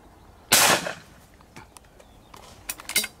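Shotgun fire at pigeons over a barley field on a hot day: one sharp close blast, then a few fainter distant pops and a quick pair of shots near the end, outdoors with no talk.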